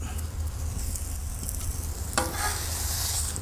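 An onion and chilli mix sizzles gently in a pan, a soft steady frying hiss with a brief louder crackle partway through.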